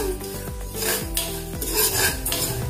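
Chana dal and urad dal roast together in a pan, the lentils rasping and rustling steadily as a spoon scrapes and stirs them with metallic clinks and knocks.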